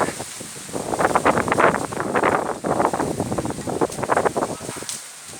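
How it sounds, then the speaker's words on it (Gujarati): Strong storm wind kicks up dust whirls outdoors, buffeting the microphone in loud, rough gusts that swell and ease across the moment with no voices. "જો મિત્રો કેટલો પવન છે અતિ ભારે."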